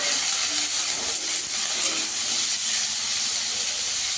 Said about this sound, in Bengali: এই তেলে আলুটা একটু লাল করে ভেজে নেব।